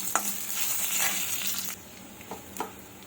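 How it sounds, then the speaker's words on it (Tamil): Cut green chillies dropped into hot oil in a pan, a loud sizzle that bursts up at once and then eases to a quieter crackle, with a few stirring scrapes near the end. "இப்போ மிளகா 4 மிளகா எடுத்து வச்சுருக்கேன், கட் பண்ணி அதை போட்டுருவோம்,"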